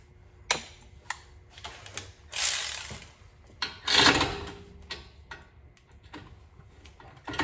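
A 3/8 drive ratchet clicks in short irregular bursts while turning a brake bolt on an Audi during a front brake job, close and crisp, with quiet gaps between the runs.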